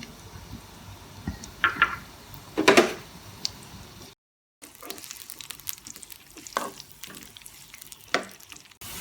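Sizzling and crackling of onions frying in a pan until golden brown, with occasional stirring scrapes and a brief silent gap midway.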